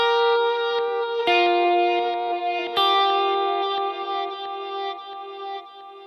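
Plucked electric guitar notes ring out through a Headrush delay effect with high feedback, the repeats stacking and sustaining into a long, shimmering wash that slowly fades.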